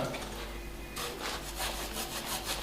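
Wood being sawn for a boat gunwale, a continuous rasping cut that turns brighter and more forceful after about a second, repeating back-and-forth strokes close by with no voices.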